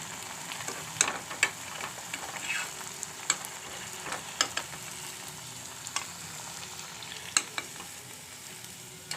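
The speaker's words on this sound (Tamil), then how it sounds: "இப்போ வடை கொஞ்சம் பொன்னிறமாக ஆயிடுச்சு. திருப்பி விட்டுக்கோங்க." Rice vadai, made from leftover cooked rice, fry in hot oil with a steady soft sizzle, punctuated by sharp crackles and spatters at irregular intervals.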